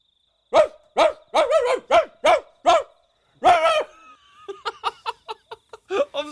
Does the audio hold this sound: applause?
no